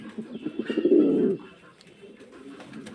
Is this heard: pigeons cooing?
yes